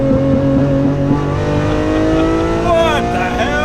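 A straight-piped 710 hp Lamborghini roars loud and close with a raw, buzzy exhaust, its pitch dropping and climbing again through gear shifts while people talk over it.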